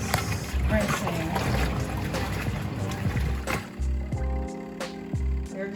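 Water sloshes and churns with gurgling splashes as laundry is rinsed in a portable mini washing machine, up close with uneven swishing bursts.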